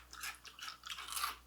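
Crisp crunching and chewing of Froot Loops cereal, close to the mic, in a few quick bursts of bites with no speech.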